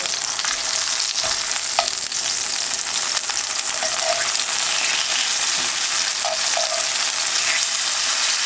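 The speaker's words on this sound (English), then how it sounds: "there's a lot of juice in the tomatoes, so it's going to make a lot of splatter" A tomato and egg omelette fries loudly in a pan, juicy tomatoes causing constant spattering sizzle with scattered pops and crackles, close and continuous with no talking.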